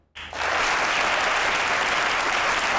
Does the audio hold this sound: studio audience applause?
yes